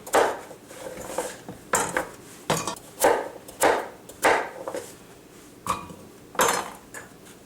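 Knife chopping a carrot on a cutting board for a vegetarian minestrone, with slices set into a pot: a series of about a dozen sharp, close, evenly spaced knocks with brief clatters between them, and no talking.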